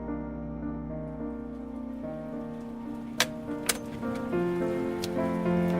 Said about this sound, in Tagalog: Ang lakas naman ng ulan na to.